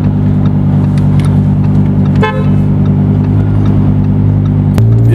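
A car idles close by with a deep steady engine rumble, a short horn toot sounding midway, before the engine note shifts lower as the car pulls up.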